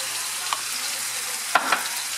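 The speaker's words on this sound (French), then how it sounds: "je fais cuire ma viande." Minced beef steak seasoned with salt and pepper fries in a pan with a steady, even hiss under a low hum, plus a few faint utensil taps near the middle and the end.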